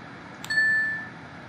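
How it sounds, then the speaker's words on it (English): A single bell ding in the video game Progressbar 95, a clear bright strike with a short ringing tail that fades within half a second, alone against quiet background hiss. "I apologize if the bell ringing is getting annoying."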